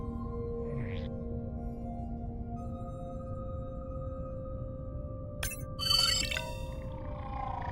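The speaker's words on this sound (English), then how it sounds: "New whale!" Whale social calls in an underwater video game: long, steady tonal moans and drawn-out hums layered together, with a brief rising chirp early and a burst of bright clinking, ringing tones near the end.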